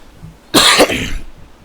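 A single close, harsh cough bursts out and trails into a rough throat-clearing rasp, lasting under a second in an otherwise quiet room.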